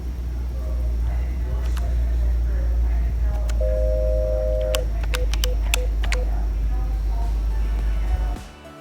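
Telephone DTMF tones on a Webex Calling phone as an extension number is keyed in, a steady tone followed by a quick run of short beeps over a low background hum.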